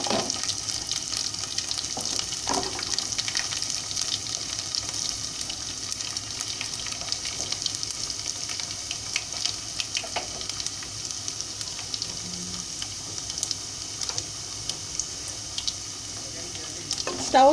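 Chopped garlic drops into hot oil for a homemade tomato pickle tempering and sizzles steadily, a continuous close frying hiss with occasional stirring clicks, no voices over it.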